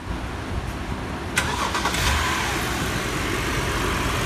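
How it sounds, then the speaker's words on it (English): A BMW engine cranks and catches about a third of the way in, a sharp starter burst followed by a steady, moderately loud running hum close by. "Okay, started the vehicle."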